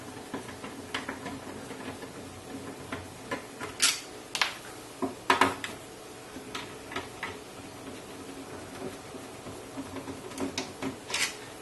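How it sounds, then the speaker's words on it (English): A screwdriver backs out the faceplate screws of a NuTone Model 2561/2562 intercom master station, making small irregular ticks and faint metallic clicks at close range with quiet gaps between them. "So I'm removing the four faceplate screws."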